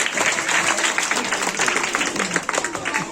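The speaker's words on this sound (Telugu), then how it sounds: "ఒకసారి అందరూ కూడా చప్పట్లు పడదాం" An audience claps together for a young boy's dance performance at a local dance event, a dense, steady patter of many hands, close and fairly loud, with voices mixed in underneath.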